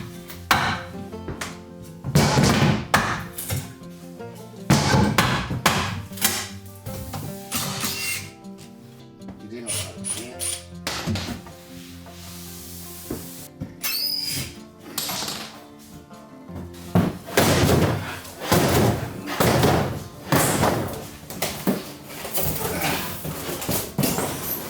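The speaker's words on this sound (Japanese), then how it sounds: "そして横の押し入れを解体していきます" A wooden closet with plywood panels being demolished by hand, with loud irregular hammer blows, bangs and cracking wood in bursts, close by, with short pauses between strikes.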